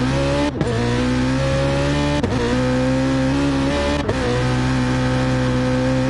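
Race cars pulling out of the pit lane at Laguna Seca in a racing sim, loud sustained engine drones with steady harmonic tones and brief dips at gear shifts.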